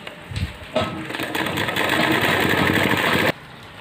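A sewing machine stitches fabric for narrow palazzo pants in a steady, loud mechanical whir that starts after a brief pause and runs for almost three seconds, then cuts off abruptly.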